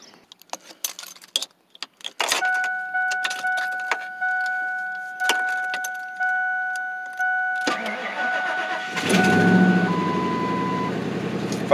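A Ford F-150 engine starting: keys jangle, a steady warning chime repeats, then the starter cranks and the engine catches and settles into a loud, close running rumble.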